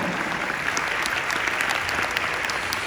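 Applause at a recognition event, a room of people clapping steadily at moderate volume for the whole stretch with no voices over it.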